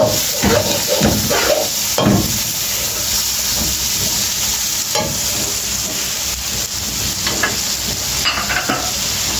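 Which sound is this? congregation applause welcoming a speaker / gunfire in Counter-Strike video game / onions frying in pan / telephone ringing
onions frying in pan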